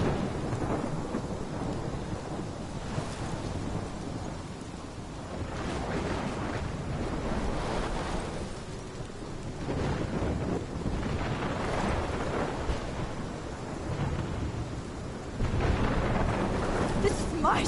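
A video game thunderstorm from Life is Strange: steady heavy rain and wind-like roar with low rumbling thunder swelling and fading, continuous and loud with no talk.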